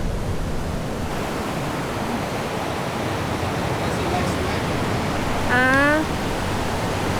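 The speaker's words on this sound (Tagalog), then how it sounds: "Wow, that's big wave." Ocean waves break at Baler in a loud, steady roar of surf that fills the whole clip, with a person's brief exclamation near the end.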